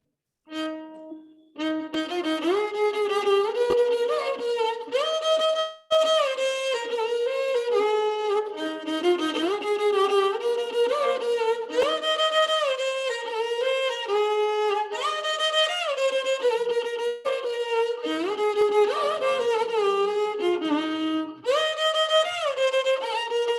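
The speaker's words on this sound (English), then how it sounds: "This is set to the raga called Hamir Kalyani" A Carnatic composition in raga Hamir Kalyani set to Khanda Chapu tala, played as a continuous melodic line with sliding ornamented notes, loud and close, with brief pauses between phrases.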